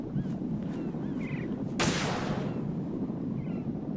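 A single sharp gunshot from a sniper in Metal Gear Solid 2 cracks out once, loud and close, then fades with a short tail over steady background game noise.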